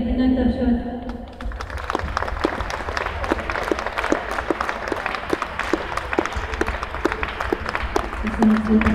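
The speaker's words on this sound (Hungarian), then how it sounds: "Köszönjük szépen a zsűrinek, egy nagy tapsot!" An audience claps for the jury at a dance competition awards ceremony, a crowded burst of applause beginning after a brief moment of background sound and continuing steadily, with some individual sharp claps standing out.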